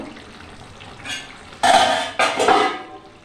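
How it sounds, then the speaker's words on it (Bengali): A metal lid lifts off a pot of chicken cooking in a pan, followed by two loud bursts of clattering and scraping as a spoon stirs, close and crisp. "এবার ঢাকনাটা তুলে একটু দেখব, নাড়াচাড়া দিয়ে নেব।"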